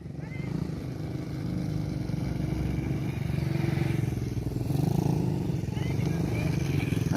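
A geared dirt bike engine drones steadily nearby, rising slightly as it revs, with voices faintly in the background.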